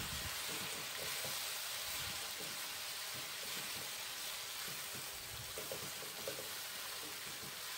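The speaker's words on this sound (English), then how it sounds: "Keep stir frying." Sweet and sour chicken sizzles and crackles in a hot pan, a constant stir-frying hiss with soft scraping and stirring sounds underneath.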